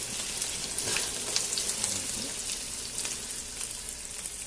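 Parmesan chicken sizzles steadily in hot oil, a close, even crackle with small popping bursts and no talk over it.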